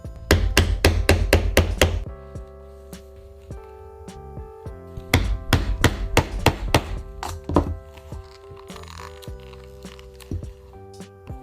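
A hammer strikes a punch to make stitching holes in ostrich leather, sharp wooden-sounding knocks in quick bursts of several blows, close and loud, with short pauses between sets.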